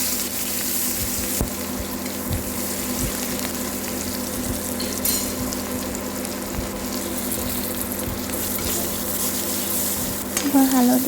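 Onions go into a pan where fish is already frying, a loud, continuous close sizzle with intermittent stirring clicks and scrapes, ending in a brief louder crackle.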